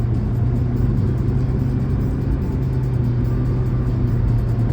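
Car passing on the left in traffic, heard from inside a vehicle as a steady low engine and road rumble, close and continuous with no distinct rise or fall.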